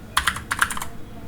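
Typing on a computer keyboard, a quick close burst of about a dozen crisp keystrokes in two short clusters, then quiet.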